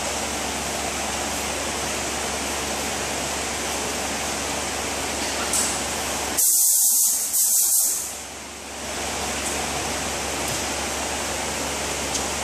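Spray gun applying clear coat to a 2010 Honda Civic during collision repair, a steady broadband hiss running throughout with a brief louder, harsher burst in the middle before settling back.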